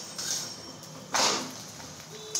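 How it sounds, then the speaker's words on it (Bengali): An egg cracked against a surface with salt for a street-style egg roll, heard as a few short, sharp taps and cracks spaced about a second apart over a quiet background. "এখানে মা নুন দিয়ে ডিমটা ফাটাচ্ছে।"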